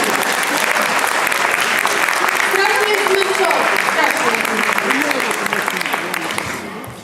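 Loud, sustained applause from a large crowd at a teachers' performance at a lower secondary school in Międzyzdroje, steady for several seconds with voices mixed in, tapering slightly at the end.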